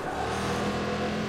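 A car engine drones steadily at moderate, even volume from Watch Dogs 2 driving, with no speech over the continuous hum.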